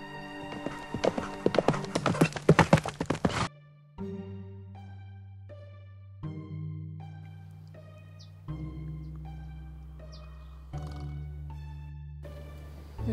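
Rapid hoofbeats clatter loudly at the start, then fade as music with sustained tones plays on.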